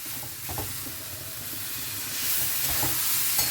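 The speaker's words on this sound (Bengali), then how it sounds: "এবার এখানে আমি জল দিয়ে দেব।" Water poured into a hot pan of spices for a masoor dal with kalmi shak, hissing sizzle that swells louder partway through, with a few stirring scrapes, close and steady.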